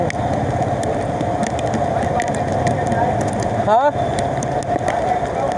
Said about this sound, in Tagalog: biglang lumakas yung ulan, grabe